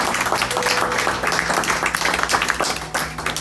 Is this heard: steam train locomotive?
no